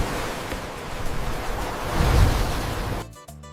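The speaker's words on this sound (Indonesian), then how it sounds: "ombak tetap ganas dan hampir tidak bersahabat bagi pelayaran kecil" Rough surf pounds the south coast of Nusa Kambangan island, a steady roar of breaking ocean waves with wind buffeting the microphone, swelling louder near the end before dropping off abruptly.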